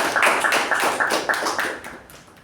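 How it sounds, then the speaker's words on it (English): Audience applause at a Toastmasters club meeting for the club president, a steady burst of clapping that fades out toward the end, with no talk over it. "can we have a big round of applause for Toastmaster Shivaprasad?"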